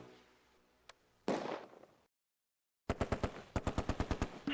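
Machine gun fire in the Close Combat video game set at Arnhem Bridge, a short burst and a spatter of noise, a pause of silence, then a rapid rhythmic string of loud shots.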